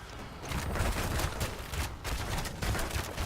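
Steady rapid gunfire in the Heroes of the Storm video game as a hero keeps shooting at a tower, a dense continuous stream of shots without pause.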